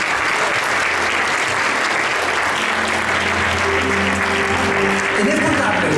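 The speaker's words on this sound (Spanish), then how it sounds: "da un aplauso al Señor, amén" Loud, continuous applause from a church congregation at a Sunday service in Beaverton, Oregon, with a sustained musical tone rising beneath the clapping in the second half.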